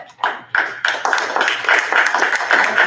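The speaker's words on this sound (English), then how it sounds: "we need a clap again on that" An audience at a county school board meeting claps, a quick burst of overlapping hand claps that builds over a few seconds, close and fairly loud, with no talking.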